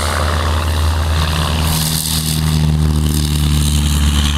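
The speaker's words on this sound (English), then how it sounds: "these are some guys taking off. They're going to be doing a formation flyby." Sonex light homebuilt airplanes take off for a formation flyby at a Fourth of July fly-in at Buena Terra airport north of Topeka, Kansas, with a loud, steady propeller engine drone whose pitch rises as power builds.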